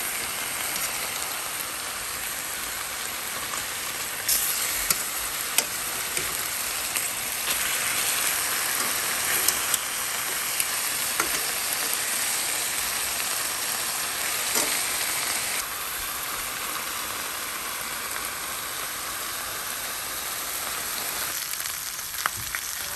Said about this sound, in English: all I'm doing right now is just browning the meat by searing it on both sides